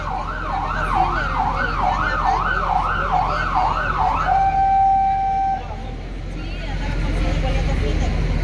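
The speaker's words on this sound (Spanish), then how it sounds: "Llegan las ambulancias por cualquier cosa." An ambulance siren wails with a rising and falling sweep, then switches to a steady high tone as it arrives at a fire in a historic town centre near a park. Traffic rumbles and crowd voices sit underneath.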